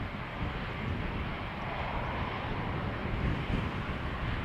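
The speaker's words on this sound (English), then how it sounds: "A350-900 from China Southern is going to Guangzhou and is 3 years old." A China Southern Airbus A350-900 takes off from Amsterdam Schiphol runway 36L, its engines giving a steady, broad roar that holds at one loudness throughout, with some wind buffeting the microphone and no one talking.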